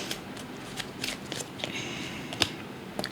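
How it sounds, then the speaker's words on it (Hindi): Tarot cards shuffled by hand in a quiet room, a soft run of faint riffling clicks and brushing with a few sharper snaps, no voices. "देख लीजिए, मैंने इतना शफल किया"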